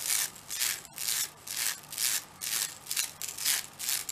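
Rhythmic metallic swishing of a slinky toy sliding from hand to hand, about eight even repeating pulses, close and steady with no voices.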